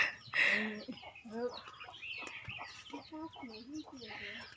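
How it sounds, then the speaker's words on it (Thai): Chickens in a garden cluck repeatedly in short, choppy bursts, with one louder squawk near the start, close and fairly loud, while a voice seems to murmur faintly in the background. "ไก่เข้าสวน"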